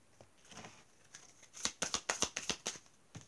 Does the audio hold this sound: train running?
no